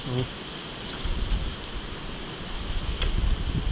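Steady, rough wind noise buffeting the microphone during a manual rice harvest in the fields, with gusts swelling and fading throughout and a few faint higher sounds in the background.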